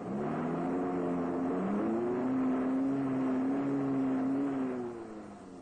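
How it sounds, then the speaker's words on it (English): Series Land Rover four-wheel drive accelerating hard with its wheels spinning, a loud steady engine drone climbing in pitch and holding high before easing off at the end. "Sudden bursts of power cause the wheels to spin, and the vehicle digs deeper into trouble."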